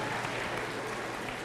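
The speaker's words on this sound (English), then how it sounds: "Give them a round of applause." An audience at a health talk on diabetes gives a round of applause, a short, dense burst of many hands clapping at an even level.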